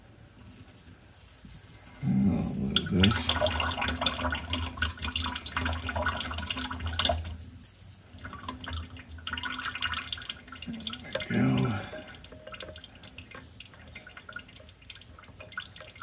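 Engine oil draining from a Toyota GR Corolla, a steady close splattering and dribbling stream into a pan that swells and fades over several seconds, with faint rattles and no talking.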